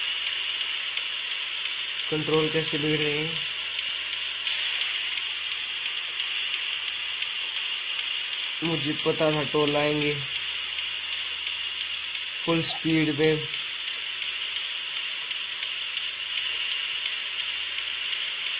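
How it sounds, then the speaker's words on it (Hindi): Steady rain hisses continuously in a truck simulator video game, a constant wash of noise while someone talks over it in short bursts. "वो बारिश आने लग गई,"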